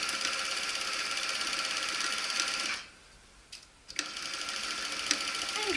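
A sewing machine stitches fabric with a steady mechanical whir, pausing briefly partway through before starting up again with a few clicks, close and clear with no talking.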